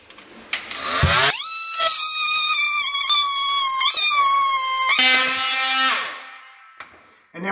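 A power tool blade cuts a notch during a dishwasher installation, a loud close high-pitched whine holding steady for about four seconds, dipping as it bites, then winding down with a falling tone.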